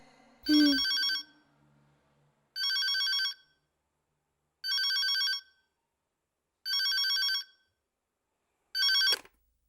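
A telephone bell rings in five evenly spaced bursts, clear and fairly close, with silence between rings; a thump comes just before the first and the last is cut short.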